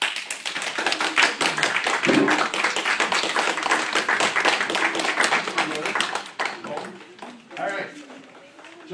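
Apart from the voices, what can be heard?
audience applauding after hypnotism demonstration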